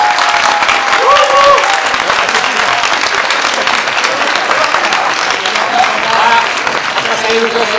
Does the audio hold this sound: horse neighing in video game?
no